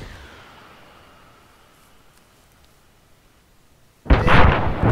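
A rocket fired in a military video game battle, with a faint fading rumble at first, then a sudden loud, close explosion near the end that keeps roaring.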